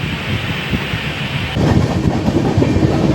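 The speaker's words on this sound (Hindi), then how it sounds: "आप देख रहे हैं ये जो रेलवे है, ये कानपुर सेंट्रल की तरफ जा रही है।" An Indian Railways train rolls past on its way toward Kanpur Central, a steady loud rumble of wheels and carriages that swells about halfway through, with no talking.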